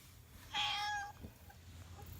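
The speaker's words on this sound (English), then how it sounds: "Meet the trail cat." A cat on an outdoor trail gives one clear, drawn-out meow, fairly faint against soft background noise, followed by a quieter brief sound.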